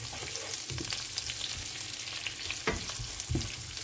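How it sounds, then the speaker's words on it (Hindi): Coarsely chopped onions fry with cumin seeds in a pan, giving a continuous close sizzle with occasional soft knocks and scrapes from stirring. "तो बस प्याज को हम लाइट गोल्डन ब्राउन कर लेते हैं।"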